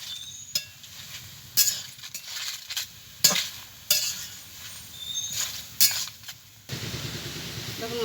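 Chopped water lily stems (shapla) softening in a hot wok, with a soft sizzle under sharp, irregular clinks and scrapes of a spatula stirring against the pan, ending in a louder burst of frying.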